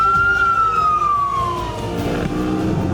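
Ambulance siren at the tail end of a street parade, a loud, close, gliding wail that slowly falls in pitch over a rumbling vehicle engine, with no talking.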